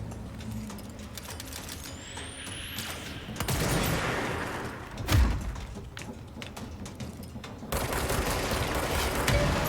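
Heavy gunfire and explosive blasts from the action video game Control, with rocket launches, a whooshing streak, thuds and bursts of rapid fire. The barrage is loud and dense and shifts in intensity throughout, with no clear talk.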